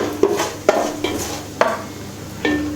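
Whole spices such as cloves, mace, fennel and cardamom sautéing in ghee and oil in a pan, with a soft steady sizzle broken by a few sharp clinks and scrapes of a stirring spoon against the metal, close up and with no voices.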